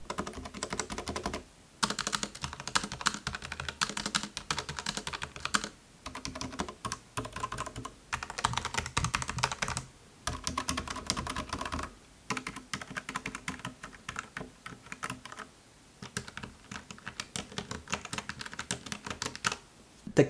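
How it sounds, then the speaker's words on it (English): Steady typing on a Razer Deathstalker v2 Pro TKL keyboard, each press giving a soft thunk, in bursts of rapid keystrokes broken by brief pauses over about twenty seconds, fairly quiet and close, with no talking. "Each sound, it has a little bit thunk to it every time you press it."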